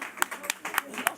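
A few sparse, evenly spaced claps from a quiz audience, sounding under people talking.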